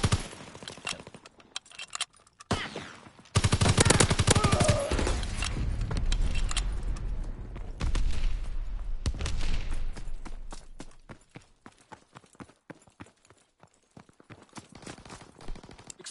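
Submachine gun fire in a WW2 shooter crackles in rapid bursts, with a long sustained stretch of dense shooting and scattered sharp shots around it, close and loud.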